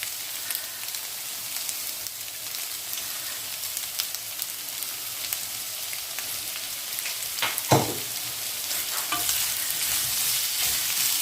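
Steady sizzling of food frying in olive oil in a pan for a pork and chickpea stew, with occasional scraping and clinks of a utensil stirring, close and continuous without voices.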